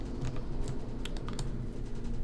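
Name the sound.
pressing keys on a computer keyboard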